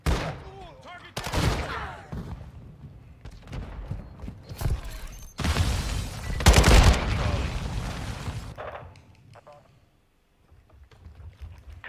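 Bursts of rifle gunfire in the video game Call of Duty Modern Warfare II, loud close volleys separated by quieter pauses, mixed with rushing movement noise and fading out near the end.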